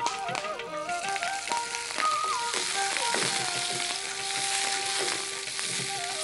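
Hot oil with popped mustard seeds sizzles and crackles loudly as curry leaves and a little onion go in. Steady frying hiss continues with sharp spits and stirring clatter throughout.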